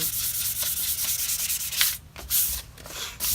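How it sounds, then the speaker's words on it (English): Chalk paint being lightly sanded on a wooden headboard, a close, steady rubbing rasp in repeated strokes, with a couple of brief pauses near the end. "we're only taking off very little of this chalk paint. This is just smoothing it out."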